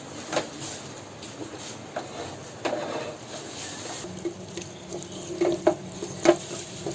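Whisked yogurt being stirred into fried onions for Lucknowi chicken dum biryani: soft, irregular spoon scrapes and taps over a faint low sizzle, close by and fairly quiet.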